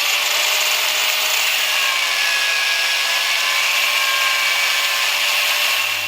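A power tool grinds steadily and loudly at close range, cutting two flats onto a seized bolt in a Subaru Forester driveline, one continuous high abrasive whine with no pauses.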